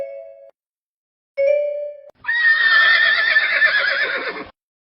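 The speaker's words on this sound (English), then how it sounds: "Horse. Horse." A horse whinnies loudly in a long, wavering neigh right after two bright chime tones. No one speaks.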